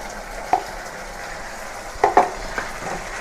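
Ginger garlic paste frying in a pan for prawn dopiaza, a soft steady sizzle with a few sharp spoon scrapes and clinks as it is stirred, close and without speech.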